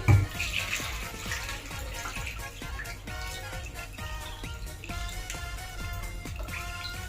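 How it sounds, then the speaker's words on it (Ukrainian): Water poured into a clay pot of borscht with dried crucian carp, a steady gurgling, splashing flow lasting several seconds, close and moderately loud. "Заливаємо водою."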